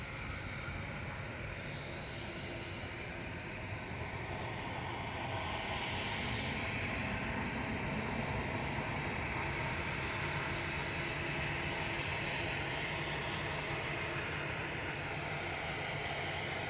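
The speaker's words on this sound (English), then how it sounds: "So we've got another Dreamliner heading our way shortly." A Boeing Dreamliner jet airliner approaches Manchester Airport, a steady broadband engine roar held at an even level throughout with no voices.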